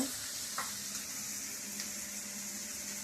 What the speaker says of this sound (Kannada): ಉಳ್ಳಾಗಡ್ಡಿ ಸರಿಯಾಗಿ ಫ್ರೈ ಆಗ್ಬೇಕು